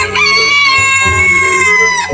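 A toy rooster crows loudly and alone, a single electronic cock-a-doodle-doo with a bright, steady tone.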